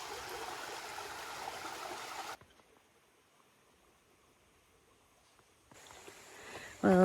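Stream water rushes over small cascades along a woodland trail in Pennsylvania. A steady broadband wash of flowing water plays for about two seconds, then cuts to near silence, and a fainter flow returns toward the end.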